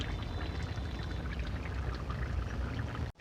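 Fish curry with coriander leaves poured out of a cooking pot, a soft continuous liquid splashing and trickling close by, fairly quiet, stopping with a brief knock at the end.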